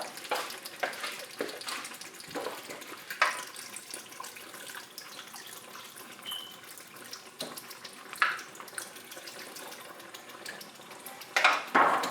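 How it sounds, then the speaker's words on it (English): Water is poured into a pot of Nigerian red stew with chicken, giving a soft splashing and trickling with intermittent louder pours and clinks of cookware, close and moderately quiet. "I'm going to add a little water"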